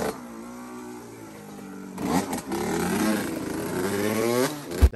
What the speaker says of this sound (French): Il y a un Momo qui pique une moto